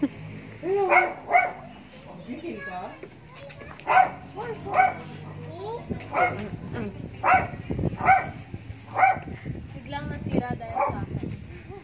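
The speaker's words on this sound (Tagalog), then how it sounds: "May aso. Pati aso eh." A dog barks again and again in short, fairly close bursts, with a few whimpers and yips mixed in, while people talk now and then in the background.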